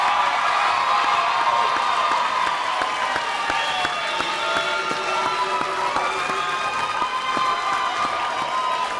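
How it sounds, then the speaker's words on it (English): Loud sustained applause and cheering from a crowd at the Camden Big Picture Learning Academy 2017 graduation, greeting the graduating class, with whoops and shouts rising over steady clapping throughout. "Please give me a round of applause."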